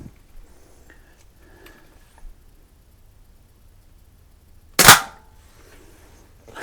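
A single sharp crack from a Crosman 140 .22 calibre pellet rifle fired at a can seven yards away, sudden and fairly close against an otherwise quiet background.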